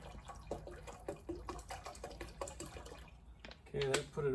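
Water is poured from 500 millilitre bottles into the tank of a Detroit Diesel 12V92 injector cleaner, with irregular splashes and drips that end in a brief burst of filling, close and fairly quiet.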